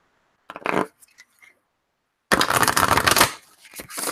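Oracle cards being shuffled by hand: a brief riffle of papery rustling, a few light taps and flicks, then a longer, louder burst of dense shuffling near the microphone, with no one talking.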